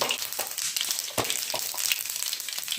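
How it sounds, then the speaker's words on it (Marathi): Mustard seeds crackle in hot oil at the start of a simple cauliflower stir-fry, with scattered sharp pops and snaps over a soft continuous sizzle, close by. "मी थोडीशी जास्त मोहरी टाकते याच्यामध्ये"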